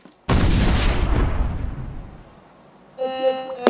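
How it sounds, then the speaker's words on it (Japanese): A slime explosion goes off in a single sudden loud blast that rolls and fades over about two seconds. Then a short voiced cry follows near the end. "このスライムを入れると爆発するよ。"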